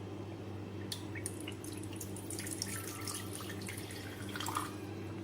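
Water trickles and splashes into a cooking pan in a home kitchen, making light, irregular drips and pours that are faint against a low background hum.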